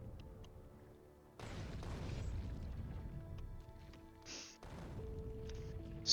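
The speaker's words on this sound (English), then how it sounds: "The artillery barrage that you can pop off is" Artillery barrage in the game Factorio: deep rumbling booms roll in at a distance, one sustained surge followed by another after a short lull, with faint crackling bursts on top. No talking.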